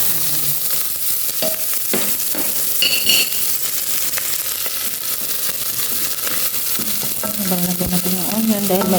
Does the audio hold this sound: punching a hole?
no